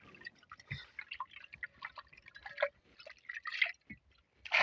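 A bucket is dipped straight into the sea and filled, giving scattered close drips, sloshes and small splashes at an uneven pace.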